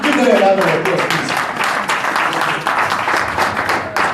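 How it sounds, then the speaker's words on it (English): An audience at a talk on the impact of Brexit gives a round of applause, a loud, dense burst of clapping that carries on steadily for several seconds. "Please, give them a round of applause, please."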